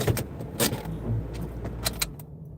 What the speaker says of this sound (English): Let me shut off the car